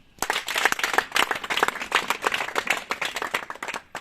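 Applause at a diploma ceremony for sewing and tailoring finalists, with distinct individual hand claps rising into lively, uneven clapping from a modest crowd, close and fairly loud throughout.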